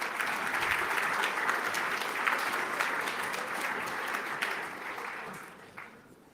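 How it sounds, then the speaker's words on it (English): An audience at a panel event applauds as the panelists come on stage, a steady wash of many hands clapping that carries on for several seconds and then tapers off near the end. "If you give them a round of applause, that would be great."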